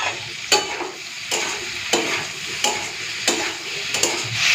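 Chopped tomato goes into frying potato and okra in a pan, giving a steady close sizzle broken by regular scraping stirs about every 0.7 seconds, with no voices.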